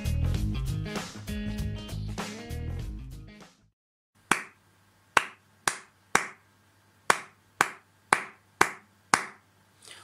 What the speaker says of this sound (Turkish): Farklı nota değerleriyle el çırpma alıştırması yapalım